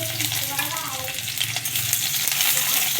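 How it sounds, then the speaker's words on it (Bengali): Dried red chillies and a few garlic cloves frying in hot oil in a kadai, a dense steady crackling sizzle with a low hum beneath, close and continuous. "তেল গরম হয়ে গেছে, এবার ওই কড়াতে দিয়ে দেবো শুকনো লঙ্কা আর কয়েকটা রসুন।"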